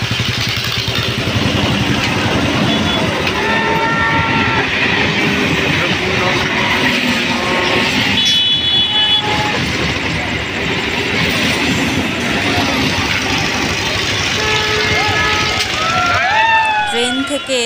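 Passenger train rolling on rails past the big Thakurnagar fair with its Ferris wheel: a steady, close clickety-clack and rumble of railroad cars running continuously, with a busy wash of surrounding noise and faint voices.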